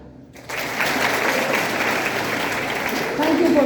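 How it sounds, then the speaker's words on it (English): Audience clapping in a lecture hall swells in after a brief quiet start, a continuous wash of hands that grows slightly louder toward the end, with some voices mixed in. "And now clap."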